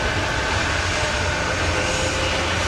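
Loud, steady aircraft engine roar fills the scene as an airplane passes, a broad continuous drone with no talk over it.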